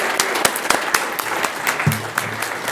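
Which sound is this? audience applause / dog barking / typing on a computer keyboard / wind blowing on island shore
audience applause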